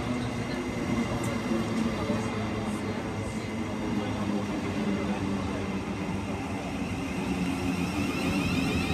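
A South Western Railway class 707 electric train arrives at Brentford station with a steady, fairly faint rumble and hum and some light high squeaks, heard from the platform at a distance.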